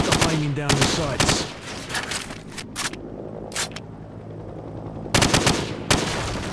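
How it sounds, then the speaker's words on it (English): Hip-fire gunfire in Call of Duty 4: Modern Warfare at a shooting range, with loud rapid automatic bursts in several volleys separated by short pauses and scattered single shots, close and punchy. "Now, shoot at the targets, while firing from the hip."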